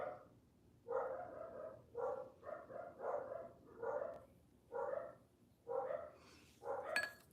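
Several dogs bark excitedly indoors, about ten short, fairly loud barks in irregular bursts, with a quiet background and no talking over them.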